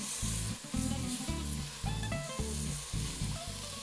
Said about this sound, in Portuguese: Aí eu deixo refogar bem mesmo esses 3 ingredientes